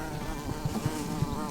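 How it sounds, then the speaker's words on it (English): Carpenter bees buzz around the wooden roof framing of a stone house, a steady close insect drone with small swells in loudness and no talking. "carpenter bees. They come and eat your wood."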